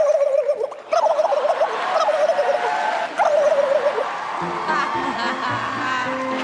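A voice imitates a turkey gobble, with warbling, rapid gobbling bursts repeated a couple of times over loud crowd noise, fading into background chatter toward the end.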